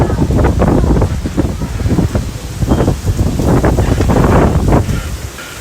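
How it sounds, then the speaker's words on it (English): Strong wind gusting outdoors during a tornado watch, a loud, continuous broadband roar with surging buffets that batter the microphone for the whole stretch, no voices. "the wind just picked up"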